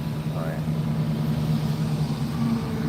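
Low steady engine drone and faint whine from a parked, running car with a broken power steering pump that has lost its fluid, a continuous hum close by.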